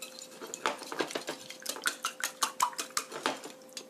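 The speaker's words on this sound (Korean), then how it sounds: "거품기로 잘 섞어주세요" A whisk beats eggs with a pinch of salt in a bowl, giving a fast run of light metallic clinks and taps that grows into a steady, regular rhythm. It is close and fairly quiet, with no voices.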